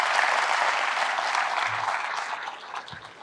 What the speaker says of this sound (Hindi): ताली बजाओ, चलो ढंग से बजाओ,